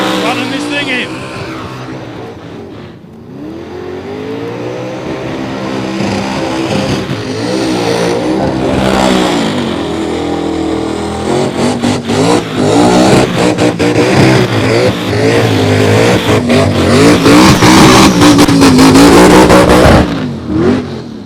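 A car engine being run in at a street racing event, revved hard with repeated throttle blips rising and falling, loud and close, with voices partly under the noise.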